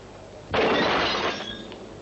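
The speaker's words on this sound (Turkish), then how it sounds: "Veresiye vermiyoruz diye camı mı kırman lazım?" A shop window pane smashed in a sudden loud crash, followed by about a second of shattering, tinkling glass that fades out; no voices.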